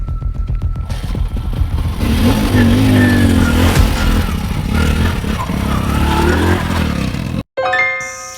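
A motorcycle engine revs loudly and steadily for several seconds nearby, then cuts off and is followed by a bright bell-like chime.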